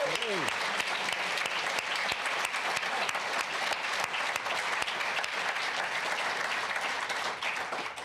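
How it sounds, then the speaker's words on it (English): A large audience breaks into sustained applause and cheering, dense clapping filling the whole stretch at a steady, loud level. "a massive cheer and applause for the volunteers"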